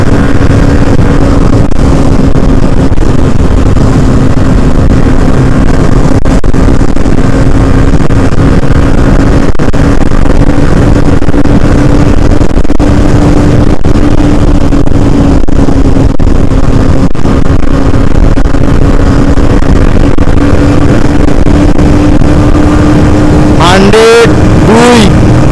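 A Hero Xtreme 125R motorcycle pulls hard in fourth gear, its engine drone rising slowly and steadily for a long stretch under heavy wind rush, loud and close, with a brief rattle near the end.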